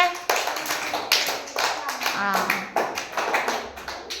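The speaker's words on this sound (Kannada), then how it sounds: "ಚಪ್ಪಾಳೆ ತಟ್ರಿ ಅವನಿಗೆ" Schoolchildren in a classroom clap for a classmate, a loud burst of quick, overlapping handclaps that pulses on and off across the clip, mixed with voices talking over it.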